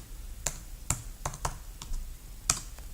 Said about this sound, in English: I'm just typing in some random number right now